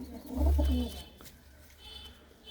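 Pigeons in a loft give a deep, soft coo close by, lasting about half a second, then a quieter stretch with faint background hiss.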